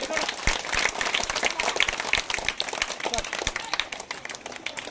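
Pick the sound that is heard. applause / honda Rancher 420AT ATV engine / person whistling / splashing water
applause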